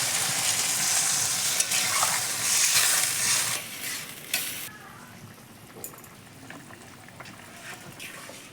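Water is poured into spice paste frying in oil for a hilsa and ash gourd curry. The loud, hissing sizzle drops sharply partway through to a quieter bubbling and crackle, with no talking.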